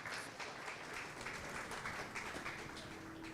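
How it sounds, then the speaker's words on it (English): Audience applause greets a guest welcomed onstage at a fashion and clothing design event, a steady dense wash of clapping at moderate distance with no talk over it. "Give her a big round of applause"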